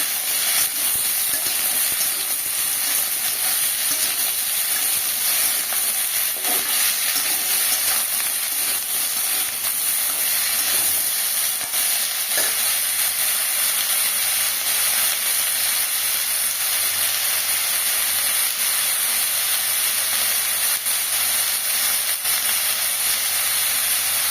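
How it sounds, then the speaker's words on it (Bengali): Beetroot and potato curry with mustard, ginger and green chilli stir-fried in a pan, giving a steady loud hiss and sizzle with faint scrapes throughout, no voices. "এটা নাড়াচাড়া দিয়ে ভালো করে ভেজে নেবো আমি।"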